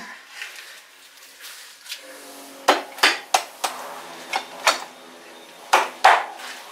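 Hammer blows striking a wedge during a chain guide change on a KTM 1290 Adventure motorcycle, a quiet stretch followed by about eight sharp, close metallic knocks in uneven pairs and singles.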